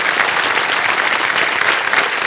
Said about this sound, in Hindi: आपके लिए ताली बज गई है।